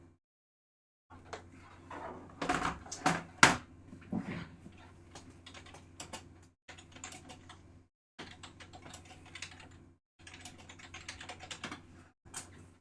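Fast clatter of typing on a computer keyboard indoors, coming in several bursts of clicks separated by short pauses over a faint steady hum.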